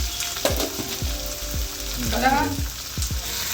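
Turkey biryani ingredients sauté in a pot with a steady sizzle, close and alone, while a spoon repeatedly scrapes and stirs in sharp knocks.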